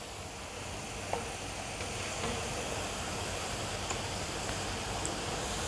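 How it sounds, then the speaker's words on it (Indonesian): Dried anchovies fry in hot oil, a dense, steady sizzle and crackle heard close up with faint stirring clicks and no voices. "Sekarang saya goreng langsung ikan terinya ya."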